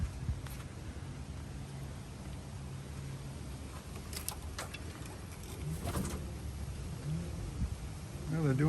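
Racing pigeons arriving at their loft during a pigeon race, with soft coos and fluttering faintly under steady outdoor background noise.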